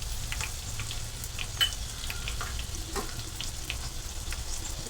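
Cumin seeds hit a hot pan for an instant idlimbu pickle. A steady close sizzle and crackle carries on throughout, with a few brief pops and spits and no talking.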